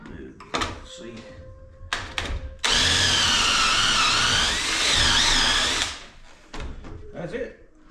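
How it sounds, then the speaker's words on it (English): A power drill with a tapered bit and stop collar bores into a wooden board, whining loudly for about three seconds between bursts of handling noise and brief talk. "To use it, you need the Craig drill. It's a tapered drill bit with a stop"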